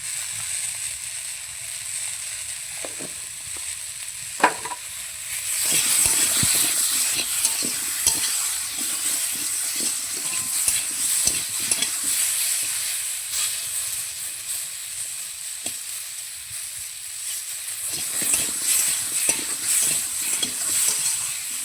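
Vegetable curry with chili powder sizzling in a pan, a steady hissing fry with repeated scraping and stirring clicks, close and moderately loud, briefly quieter partway through.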